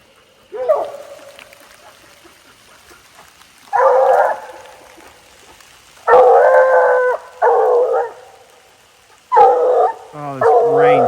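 Hunting dogs bay and howl at a treed raccoon in repeated bursts, loud and fairly close, with pauses between the drawn-out cries, outdoors at night in rain.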